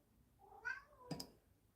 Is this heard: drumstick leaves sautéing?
no